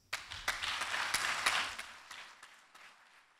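Audience applause at a prime minister handover ceremony, a burst of clapping from a crowd that swells quickly, holds for a couple of seconds, then thins out into scattered claps.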